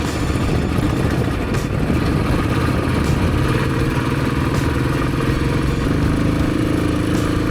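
A motorcycle rides the road up to Don Hill Station in Dang, Gujarat, its engine loud and close with a continuous rumbling drone and shifting pitch, wind roar layered over it, no voices.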